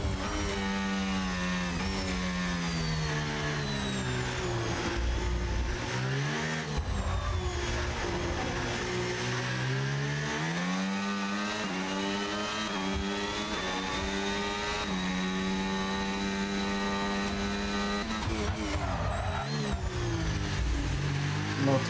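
A racing car engine screams through a hot lap at the Shanghai circuit in China, revving high with repeated rising and falling pitch sweeps as gears shift, loud and continuous throughout.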